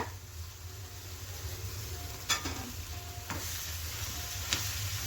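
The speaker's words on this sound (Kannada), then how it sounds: "ಎಲ್ಲ ಮಸಾಲೆ ಎಲ್ಲ ಆಲೂಗಡ್ಡೆಯಲ್ಲಿ ಚೆನ್ನಾಗಿ ಹಿಡಿಯೋ ಥರ ಮಿಕ್ಸ್ ಮಾಡ್ಕೊಳ್ಳೋಣ." Potato masala filling with coriander leaves being stirred and mixed for aloo paratha, a faint, quiet bed of soft scraping broken by three sharper spoon scrapes against the vessel, with no talking.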